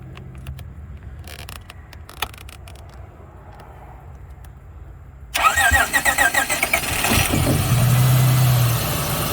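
A vehicle with a no-crank fault starts after its starter trigger wire is jumped from the battery. A few quiet clicks come first, then the starter whirs loudly and the engine catches and settles into a steady, close idle.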